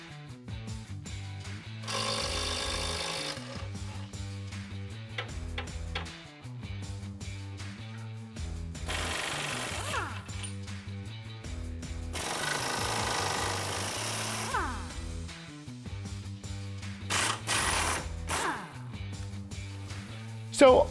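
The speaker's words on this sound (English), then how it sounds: "we opted to use our air hammer and were able to break it free" An air hammer rattles in loud bursts while breaking stuck bolts free on a Toyota FJ Cruiser lower control arm during a leveling kit install, with speech and tonal background sounds between bursts.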